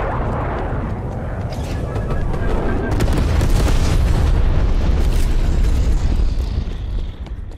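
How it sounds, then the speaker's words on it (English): Napalm strike in Call of Duty Black Ops Cold War during a team deathmatch: a loud, sustained roaring explosion with crackling bursts and rumbling fire that swells and holds for several seconds. "Enemy napalm strike incoming."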